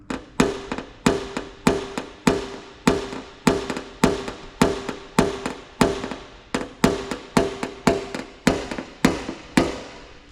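A hammer is used instead of a punch to tap out dents on a Porsche 924 Turbo body panel with an AliExpress dent-repair kit. Sharp metallic strikes with a short ring come in a steady rhythm, about two per second, with brief pauses.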